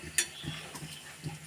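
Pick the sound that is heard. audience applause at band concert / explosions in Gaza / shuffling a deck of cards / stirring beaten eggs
stirring beaten eggs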